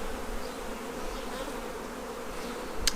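Honeybees buzz around an open hive in warm weather during a New Zealand hive inspection, making a dense, continuous hum close by with no speech.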